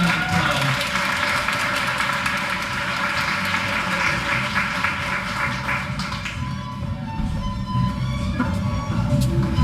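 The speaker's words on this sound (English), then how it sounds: "Let's give her a great big round of applause" An audience applauds a teacher at a Teacher of the Year ceremony in Wicomico: steady, dense clapping fills the room at full strength for the whole stretch, with a faint tonal hum beneath it.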